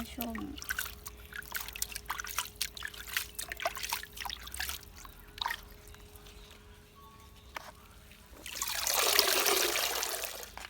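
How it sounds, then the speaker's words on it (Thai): Water is scooped and poured by hand onto the base of a potted plant, a soft trickling under quiet background sounds that swells into a louder, steady splashing pour near the end. "ก็จะทำการจุ่มลงไปเลยค่ะ เราวักน้ำใส่ตรงกกแบบนี้นะคะ"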